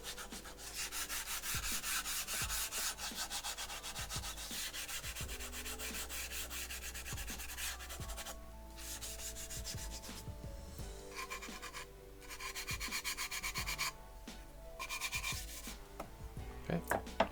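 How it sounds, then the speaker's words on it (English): A rust eraser rubs steadily across a whetstone to clear off debris, a close, continuous scrubbing rasp in repeated back-and-forth strokes with brief pauses, no talking. "So I'll do one last quick rundown with the Rust Eraser here. Pull off any other large debris."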